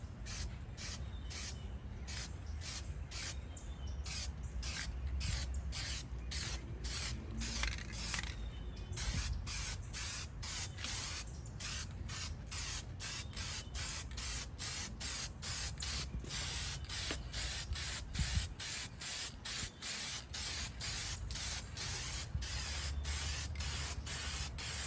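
A spray paint can hisses in rapid short bursts onto the sail panels of a 1999 Cadillac Escalade, with dozens of quick, evenly spaced sprays close up for most of the time and a few brief pauses.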